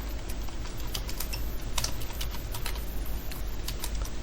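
Code is typed on a computer keyboard in a rapid, continuous patter of close, crisp keystrokes with no pauses throughout.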